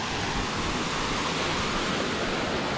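Hidden waterfall in Nara with a 104-metre drop, roaring as a steady, dense broadband rush of falling water, loud and continuous throughout with no voices over it.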